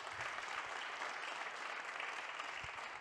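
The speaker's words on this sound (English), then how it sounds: "We can applaud" An audience applauds after a masterclass presentation on better medicines for children with cancer, a steady, even wash of many hands clapping, fairly quiet and distant, without speech.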